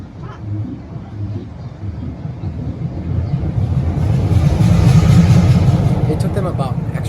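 A Canadian National MP15 diesel locomotive starts up, its engine building from a low idle rumble into a louder, steady throbbing drone close by, with people talking over it.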